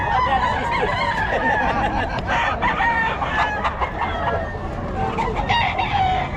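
Roosters crow loudly and repeatedly close by at a poultry market in Bocaue, with clucking chickens and a busy farmyard din throughout.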